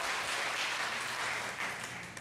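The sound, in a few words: congregation applauding in church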